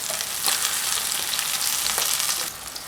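King fish pieces sizzle steadily in hot oil, a dense, close crackling hiss that carries on without pause and thins slightly near the end.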